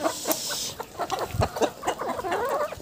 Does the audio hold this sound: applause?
no